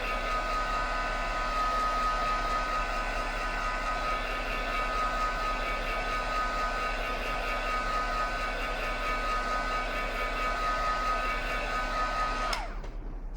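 A hair dryer blows steadily on a watercolor flower painting, a constant close whirring hum with a high whine that cuts off sharply near the end, followed by a brief clunk.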